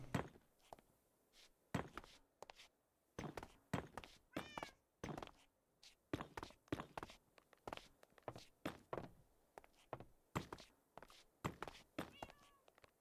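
A cat meows repeatedly in short, clear calls mixed with soft thumps and footstep-like knocks, close by and fairly quiet, with no talking.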